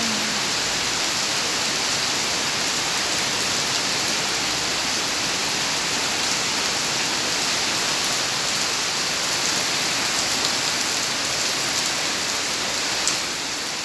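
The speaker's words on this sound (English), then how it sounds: "Today Singapore all raining." Downpour in Singapore drumming steadily on nearby surfaces, a loud, unbroken wash of falling water heard close by and alone, unchanging from start to finish.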